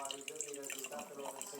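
Freshly strained piña colada juice is poured into a mug, making a faint, continuous trickling and splashing sound at low volume.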